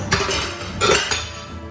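Metal spoon clinking and scraping against a pan while masala is stirred into chicken for a creamy chicken karahi, a few sharp clanks amid soft scraping, close and fairly loud.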